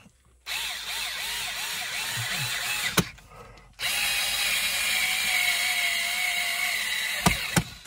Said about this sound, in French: Je suis en train de remettre mon cache, là.